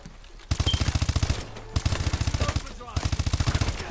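Rapid bursts of AK-12 automatic fire in the Call of Duty: Advanced Warfare campaign, loud and close, coming in three sustained volleys with brief pauses between them, with no talk over the shooting.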